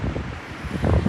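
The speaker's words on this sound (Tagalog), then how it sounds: "Ang lakas ng hangin, Diyos ko." Strong, cold wind roars and buffets against the microphone in a steady low rumble while walking home outdoors, with gusts rising toward the end.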